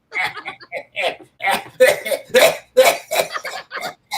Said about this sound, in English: Oh, you got some of that cough.